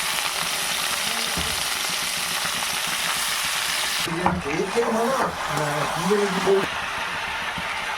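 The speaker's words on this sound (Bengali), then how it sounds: "এবার এর মধ্যে আমি আলুগুলো ভেজে নেব।" Potatoes and cabbage fry in a pan of hot oil with cumin, chilli, bay leaf and garam masala, giving a steady close sizzle throughout while a voice talks over the second half.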